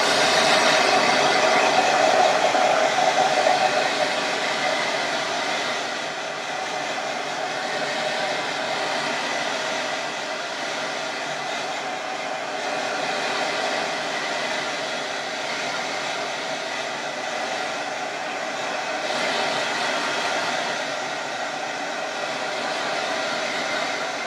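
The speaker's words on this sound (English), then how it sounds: "So now we just want to dry it with a hairdryer." A hair dryer blows steadily for a long stretch while drying fake ripped, bloody arm injury make-up, giving a constant loud whooshing hum with no voices.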